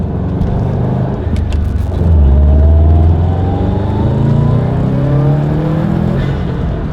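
Turbocharged engine of a 2019 Subaru STI pulling hard under acceleration, heard up close as a loud, rising drone with a gear change partway through and light fluttery texture on top, with no talking.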